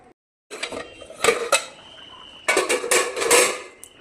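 A metal pot clatters and clinks as its lid is set on over fish cooking, a few sharp clanks and scrapes, then a longer run of rattling metal against metal, close up and without talk.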